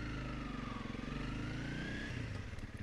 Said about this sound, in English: there's something to do with the cadence of the engine as it's thumping along